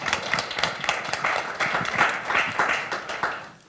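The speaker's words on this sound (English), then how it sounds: "a huge applause for Chioma" Audience applause for Chioma, a panelist at an Afro Berlin panel event, a dense, steady patter of many hands clapping close by that fades out toward the end, with no talk over it.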